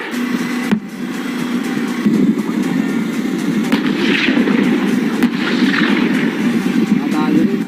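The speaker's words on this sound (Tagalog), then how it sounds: "sunod-sunod naman na pinaputok ang light armored vehicles ng Philippine Marines at Philippine Army" Light armored vehicles of the Philippine Marines and Army fire during the Balikatan military exercise, a dense, continuous roar of rolling blasts with sharper cracks, heard under a reporter's voiceover.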